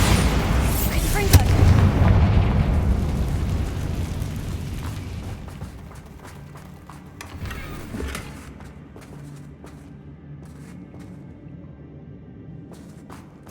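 Magical blasting spells, Bombarda and Confringo, go off in a Hogwarts Legacy battle as a loud rumbling explosion with booming impacts. The boom then fades into softer debris and ambient game sounds.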